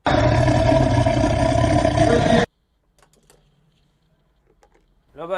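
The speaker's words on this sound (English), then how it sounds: "Tiger." From an animal figurine toy comes a loud, sustained tiger roar of about two and a half seconds, abruptly cut off and followed by quiet clicks, with a new sound starting at the end.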